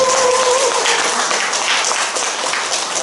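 Applause from a temple audience at a Sunday environmental Dharma talk in Haeundae, a dense steady wash of clapping that is loud and close at first, with brief tonal traces early on, then thins slightly over three seconds.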